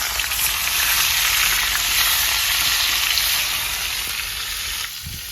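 Potato and papaya pieces fry in a pan with a steady, close, loud sizzle and crackle, easing slightly near the end, with no talking.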